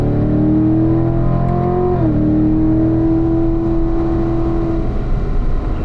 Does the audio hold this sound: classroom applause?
no